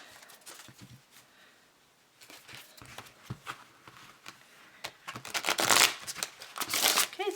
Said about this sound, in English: I'm going to go ahead and take some time to shuffle these decks on screen.